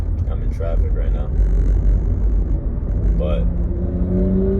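A car's engine rumbles steadily from inside the vehicle while driving in traffic, with someone talking over the low drone throughout.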